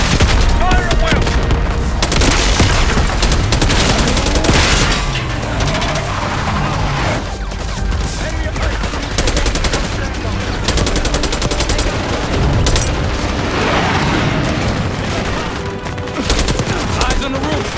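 Gunfire in Call of Duty Black Ops 6, with loud, dense bursts of shots and booming impacts packed together across the whole stretch, rattling almost without pause amid the game's battle din.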